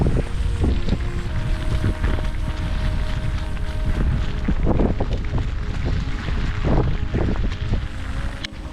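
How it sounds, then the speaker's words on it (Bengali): Strong monsoon wind buffets the microphone on a jungle trek near Mumbai, with rain rushing throughout and low gusty rumbles rising and falling. "এখানে যেভাবে হাওয়া দিচ্ছে আর তার সাথে যে বৃষ্টিটা পড়ছে"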